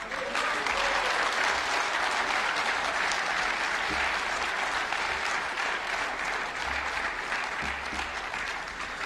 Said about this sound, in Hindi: डीजी साहब के लिए एक बार जोरदार तालियां।